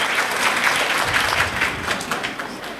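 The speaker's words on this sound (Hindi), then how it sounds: "तो ज़रा ज़ोरदार तालियां हो जाए इनके लिए ताकि इनकी हौसला अफजाई भी हो जाए" Loud, dense applause from the audience at a religious gathering (salana jalsa), many hands clapping continuously and evenly throughout with a bright, crackling texture.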